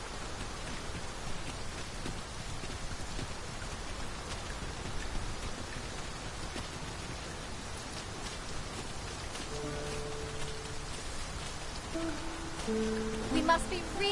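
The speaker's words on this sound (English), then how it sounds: "We must be really down on our luck to get caught out in such a downpour." Heavy rain pours down steadily in the game Dragon's Dogma 2, a dense continuous hiss of drops on surfaces throughout, with faint musical tones creeping in near the end.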